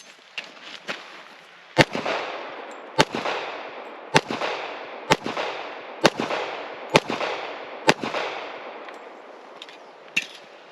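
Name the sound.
1911 pistol firing several rounds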